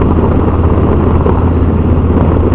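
Motorcycle fitted with Vance & Hines staggered Big Shots exhaust, Vance & Hines air filter and Fuel Pack 3, running with a loud, steady low rumble throughout, close by and alone without talk.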